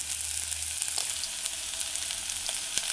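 Diced onions sautéing in a pan on a stove at medium-low heat for a saltfish and mushroom stew, giving a steady close sizzle with faint stirring scrapes and no talk.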